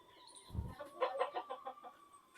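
A broody country hen sitting on eggs in a coop gives a short run of soft, close clucks after a brief low thump, quiet and alone without talk.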